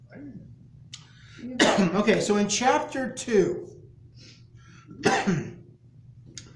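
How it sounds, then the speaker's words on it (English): A person clears their throat and coughs a few times between short bits of speech. "apparently I'm just going to hack and cough for a while"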